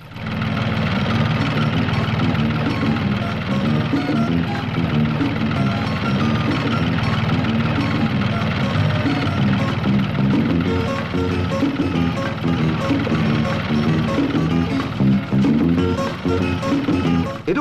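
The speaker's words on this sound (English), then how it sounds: "This is one of the bigger machines, a track marshal." A Track Marshall crawler tractor ploughing a farm field drones with a loud, steady low engine rumble and vibration that holds constant throughout, with no break.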